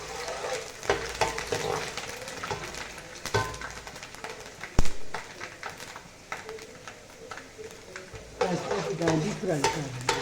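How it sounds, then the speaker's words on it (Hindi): Cashews and almonds frying in a pan while being stirred, a soft continuous sizzle with scraping and clinks of the spoon, louder bursts of stirring near the end. "ये काजू और बादाम ये भी फ्राई कर दिए"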